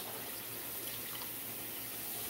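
Water pours steadily into a pot of potatoes in a kitchen, a constant near hiss and rush of liquid with no talking.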